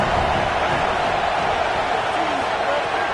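A stadium crowd at a football game roars steadily and loudly for the defense on a big third down, a dense, sustained wash of cheering with an announcer's voice faintly under it.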